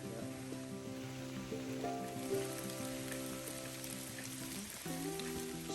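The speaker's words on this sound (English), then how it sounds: "Look over there, it looks like it's raining." Steady rain patters on the hikers and their rain jackets along the Appalachian Trail, a close, even hiss of drops over a low tonal hum, with no talking.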